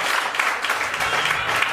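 An audience at an Armenian show claps loudly and steadily, a close, dense burst of applause with no voices over it.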